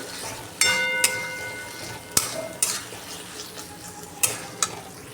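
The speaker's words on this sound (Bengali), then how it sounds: "ভেজে রাখা পটলগুলো দিয়ে এটাকে খুব ভালো করে একটু নাড়াচাড়া করতে হবে" Fried pointed gourd is stirred into cooked masala with a utensil, giving scattered scrapes and clinks against the pan over a low, steady sizzle of oil, close and moderately loud with brief pauses.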